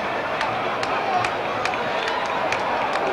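Arena crowd at a tag-team professional wrestling match, a steady roar of cheering and babble with scattered sharp shouts, loud and continuous throughout.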